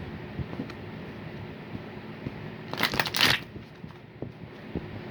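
A brief burst of cards being shuffled, crisp riffling rustle lasting under a second, set against quiet room noise.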